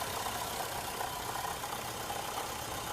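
Ford Escort engine idling after a throttle position sensor replacement, a steady close hum with faint uneven ripples and no talk.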